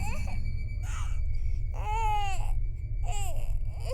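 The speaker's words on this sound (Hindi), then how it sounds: "उसे जॉन के जोर जोर से रोने की आवाज़ें आने लगी।" An infant cries loudly in rising, wailing bursts separated by short gasping pauses, close and clear over a low background rumble, used as a horror story sound effect.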